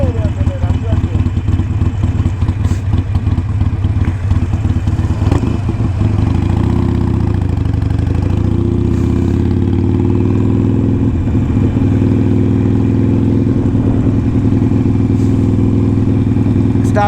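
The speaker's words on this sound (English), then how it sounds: "Sidecar motorcycle." The engine of a sidecar motorcycle runs steadily and loudly up close, a continuous low rumble and clatter throughout, while a background of outdoor noise sits beneath it.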